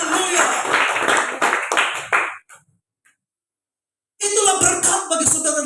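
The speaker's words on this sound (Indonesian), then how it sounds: "Berikan tepuk tangan yang meriah bagi Tuhan." A church congregation at an Easter service in Rote Ndao bursts into loud, dense applause that cuts off abruptly into silence, then a second round of clapping swells back in just as strongly.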